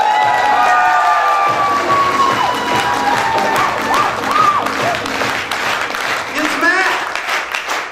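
A seminar audience at a motivational goal-setting training session claps steadily, with scattered shouts and cheers rising above the dense, sustained applause throughout.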